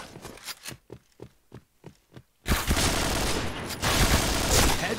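A burst of rapid gunfire in the Point Blank shooter game, about seven sharp spaced shots followed by a dense sustained fusillade, loud and close with no talk over it.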